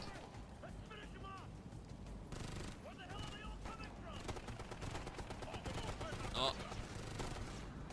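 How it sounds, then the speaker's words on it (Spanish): Automatic gunfire in Ghost Recon Future Soldier, dense rapid bursts and distant explosive booms running continuously at moderate volume, with voices talking over it. "¿Quién me está disparando con todo lo que tienen, weón?"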